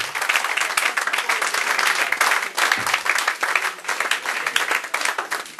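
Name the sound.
congregation applauding in church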